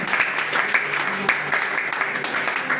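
A church congregation applauds loudly and steadily, with the sustained clapping close and dense from start to finish.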